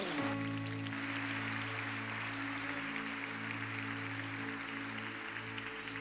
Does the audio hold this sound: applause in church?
yes